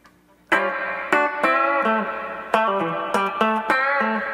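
Electric guitar chords through a tube amp's reverb ring out with a spacious reverb tail, each strum blooming and lingering into the next, played alone at a steady moderate loudness.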